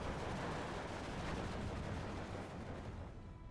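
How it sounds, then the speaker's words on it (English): Artillery shelling a town in the wartime strategy game Steel Division 2 rumbles as a dense, continuous barrage of distant booms and crackling fire, fairly faint and steady, with no talk over it. "Okay, he's shelling the town."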